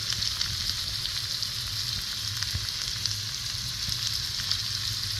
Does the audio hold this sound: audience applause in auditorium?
no